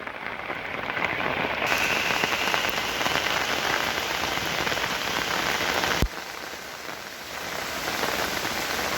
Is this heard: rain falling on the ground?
yes